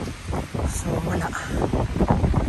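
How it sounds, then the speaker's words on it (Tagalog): Strong, cold night wind in Riyadh buffets the microphone in continuous roaring gusts while a person talks close by. "Lakas yung hangin. Ang lamig."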